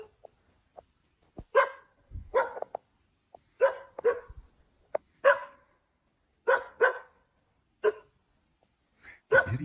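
A dog barks in scattered single and double woofs with short pauses between, fairly close, against an otherwise quiet background.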